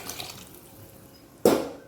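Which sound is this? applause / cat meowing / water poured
water poured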